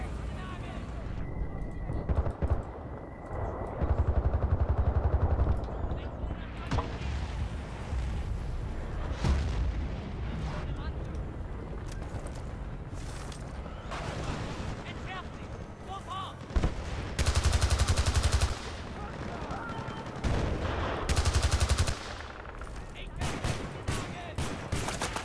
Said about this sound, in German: Wer schießt auf mich?